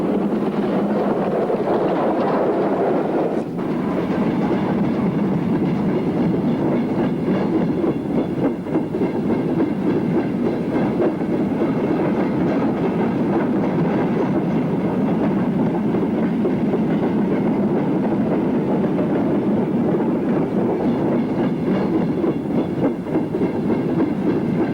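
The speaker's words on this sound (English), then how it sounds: "far more interesting are the two 5XPs on a fitted freight." Two LMS 5XP steam locomotives haul a fitted freight train on a 1930s British main line, producing a steady rolling rumble with clattering wheels and wind noise throughout, loud and continuous.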